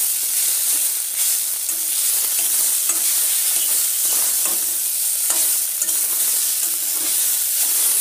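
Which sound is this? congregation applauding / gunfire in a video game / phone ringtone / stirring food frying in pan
stirring food frying in pan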